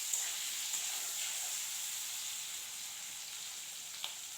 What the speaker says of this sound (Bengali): এবার এর ভেতরে দিয়ে দেব ক্যাপসিকাম। ক্যাপসিকামটা আলতো হাতে একটু নাড়াচাড়া করে নিয়ে